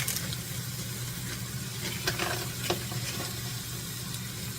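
Frozen onions sauté with ground meat in a pan for sloppy joes, a soft, low sizzle with light scraping stirs over a steady hum, fairly quiet and without talk.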